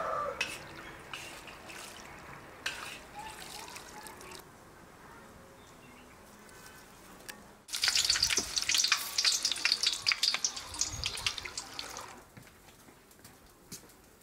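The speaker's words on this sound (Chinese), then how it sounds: "我们的猪油渣就好了哈，油渣捞起来，然后打猪油。" Pork fat cracklings frying in hot lard, a faint hiss at first, then a loud bubbling sizzle that swells midway as the cracklings are scooped out, then settles back down.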